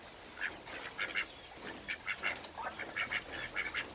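Ducks quack in quick repeated clusters, close and fairly soft, several rasping calls bunched together with short pauses between groups.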